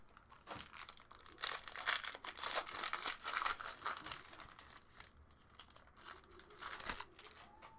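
Plastic packaging torn and crinkled off a Panini Crown Royale basketball trading card box, a close run of loud crackling, ripping and crumpling bursts.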